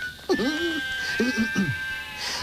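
Sheep bleat in a children's TV show scene, a few wavering calls close together over a steady background tone.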